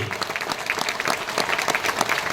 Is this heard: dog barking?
no